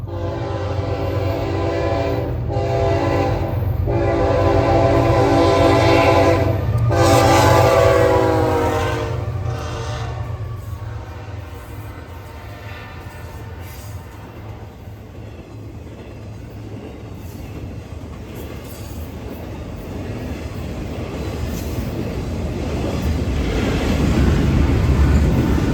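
A Norfolk Southern freight train passes close and loud, its horn blasting in several long harmonic bursts before the rumble and rattle of rolling railcars takes over and swells again toward the end.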